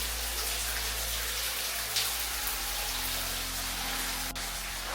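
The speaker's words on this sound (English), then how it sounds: "The water's dripping right here." Water drips and trickles inside a cave, a faint, steady wash of water sound with no talk.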